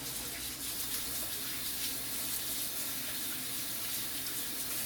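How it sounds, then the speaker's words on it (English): Hands are rinsed of flour under a running kitchen tap, a steady close splashing rush of water that continues evenly throughout. "Now we go ahead and wash our hands off."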